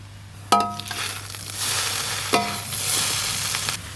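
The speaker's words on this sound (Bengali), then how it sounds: "চাউমিন কিন্তু খুব ভালো করে ভাজা হয়ে গেছে" Egg and chicken chow mein fries on a clay stove, a continuous hiss broken by two sharp metal scrapes as it is tossed, close and loud with no talking.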